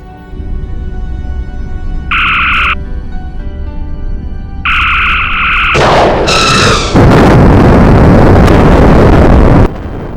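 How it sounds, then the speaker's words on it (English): Star Trek starship phaser fire and photon torpedo launches: two buzzing electronic bursts, a sharp warbling shot, then a long loud roaring blast of explosion noise. "Fire all weapons. Phasers fired. Photon torpedoes away."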